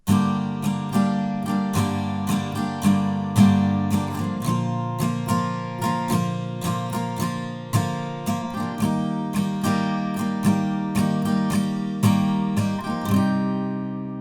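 Acoustic guitar strums the bridge chords of a song in a steady, even rhythm of bright chord strokes, close and alone, the pattern pausing briefly near the end before continuing.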